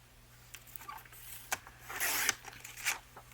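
Scissors cut through paper for a lapbook envelope, making a few close, crisp snips and then a longer rasping slice, with quiet handling noise between the cuts.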